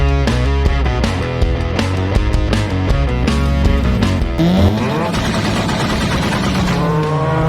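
A 2013 Yamaha Mio Soul i 115cc fuel-injected scooter engine idles loudly and close with a rhythmic pulsing beat, then the note rises and shifts as it revs up.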